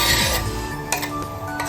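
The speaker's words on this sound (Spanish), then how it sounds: "Ponemos nuestras cebollas que picamos" Chopped onions drop into a pan of olive oil, a loud clattering tumble at first, followed by light clinks of a utensil against the pan and a soft, steady background hiss.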